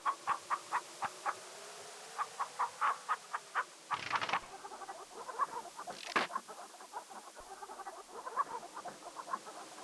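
A chicken in the King's Quest 3 video game clucks in a quick, regular series of short notes, broken by a couple of harsher squawking bursts before the clucking picks up again.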